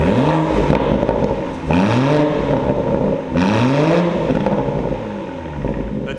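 A BMW M240i with a Quicksilver exhaust and its valve open revs three times in sharp rising bursts that fall back to a rumbling idle between them, loud and close.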